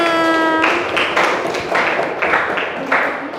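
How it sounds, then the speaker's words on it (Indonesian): A classroom of students clapping for their group after a lesson, a brief tonal note at the start giving way to several bursts of clapping that rise and fall over a few seconds. "Tepuk tangan yang meriah dulu untuk kelompok 6."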